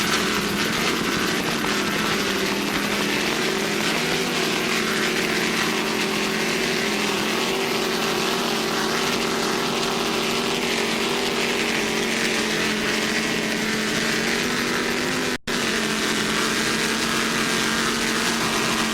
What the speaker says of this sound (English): Just listen to those Merc Bop engines.